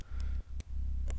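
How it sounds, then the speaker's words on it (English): The equipped flame sword in Ultima VII ticks with short, sharp clicks at irregular intervals, three distinct clicks over a low, steady game hum. "that clicking sound you're hearing, that's the flame sword"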